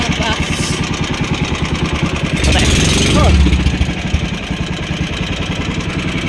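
A small fishing boat's engine drones steadily with a fast regular chug, growing louder and rougher for a moment midway before settling back to a steady idle, with people talking over it.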